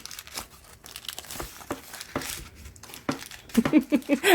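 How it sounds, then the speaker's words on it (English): A paper envelope is torn open by hand close up, with scattered crinkles and sharp rips that build into quicker, louder tearing near the end. "It's like an envelope. You can rip it open, I think."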